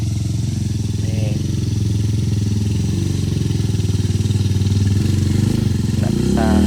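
Motorcycle straining up a steep wooden-plank incline on a rural road, its mid-pitched engine droning steadily and rising in effort toward the end, close and loud, with voices talking over it.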